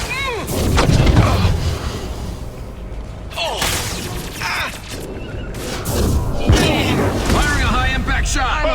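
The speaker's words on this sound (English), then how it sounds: "Firing a high impact shot!" Gunfire and heavy impact blasts in the video game Mass Effect 2, with repeated loud booming shots mixed with squad voices calling out in combat.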